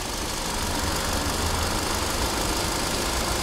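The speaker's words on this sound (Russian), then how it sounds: "Работа мотора." A Hyundai Sonata's engine idles with the hood open, giving a close, steady rumble and hum with a faint regular knock, unbroken by talk.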